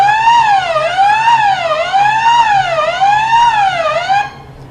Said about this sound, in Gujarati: આ પ્રેસ કરવાથી સાયરન વાગશે.